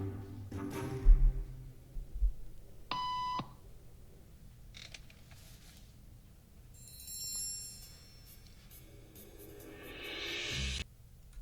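Three short electronic beeps sound in a quiet indoor setting, a clear tonal beep standing out near the middle among soft background noise and distant movement.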